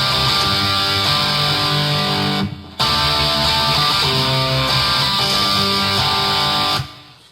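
An electric guitar strums a repeating C root and G root chord sequence in a blues style, loud and sustained, with a brief break partway through and no voices.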